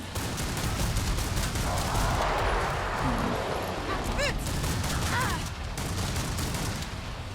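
Rapid bursts of gunfire from a Gunslinger in Killing Floor 2 on Hell on Earth difficulty, loud and continuous with game effects layered throughout.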